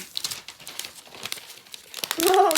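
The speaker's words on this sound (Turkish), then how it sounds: "Öyle yırtabilirsin." Plastic packaging of a tablet crinkling and being torn open up close, a series of loud crackles building to a longer rip at the end, with a voice briefly present.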